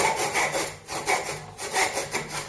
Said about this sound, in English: I'll just organise my tenon saw and we'll quickly saw it off.